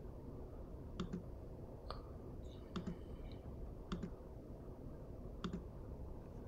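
Mouse clicks during a card game demo on a computer: four pairs of quick, sharp double clicks spaced about a second apart, close and fairly quiet over a steady low background hum, with no talking.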